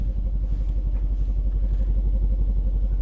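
Engine idling on an auction car at an IAA lot in Tulsa, a close, steady low rumble with a rhythmic, slightly clattery pulse and no revving.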